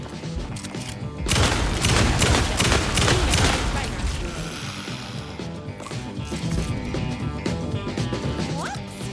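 Gunfire erupts in Alan Wake 2's Night Springs episode: a loud, rapid burst of shots crackles for a few seconds, then mechanical clatter and softer game noise carry on.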